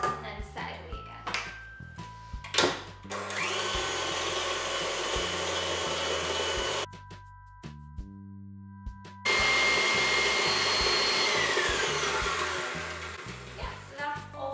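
An electric mixer whips vanilla cupcake batter in a bowl, running loud and steady, briefly stopping while the sides are scraped down, then starting again at full whir; a person talks between runs.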